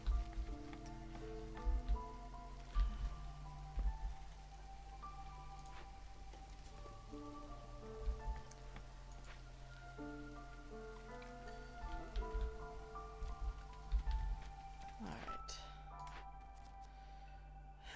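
Rain patters steadily across a surface in the settlement-building game Against the Storm, a soft continuous wash of drops alongside low tonal game music and scattered small clicks throughout.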